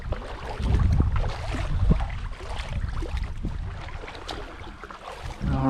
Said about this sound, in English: give me a few more minutes to paddle back into that corner